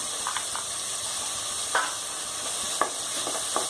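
Crushed ginger and garlic sautéing in a pan for mutton leg soup, a steady close sizzle with a few sharp stirring scrapes of the spoon against the pan.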